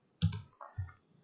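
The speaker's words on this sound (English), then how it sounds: "We're going to click on this link here." Two soft computer mouse clicks close by, each a quick double tick, about half a second apart in a quiet room.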